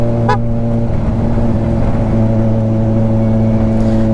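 Steady road traffic drone from a ride on a Ninja 1000SX motorcycle near Santo Tomas, with a constant low engine hum and a brief high horn-like tone early on, no voices.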